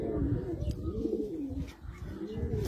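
Commando flying pigeons, a breed raised for pigeon-flying contests, coo in low rolling pulses close by, continuous over a steady outdoor murmur.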